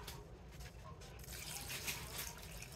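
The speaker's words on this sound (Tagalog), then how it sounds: "Isang baso lang muna ng tubig." A glass of water streams into a pot of pork ribs kaldereta, a steady close liquid pour lasting a few seconds alone.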